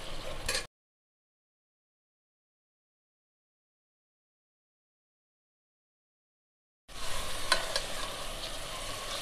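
Sliced onions with cloves and cardamom fry in oil toward golden brown for a Lucknow-style mutton korma, a close sizzle with stirring that breaks off briefly, then returns after a long silence.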